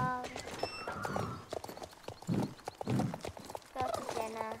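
A horse in the Star Stable video game is ridden out of its stall, its hooves clip-clopping in quick, regular steps alongside game music tones and a soft whinny.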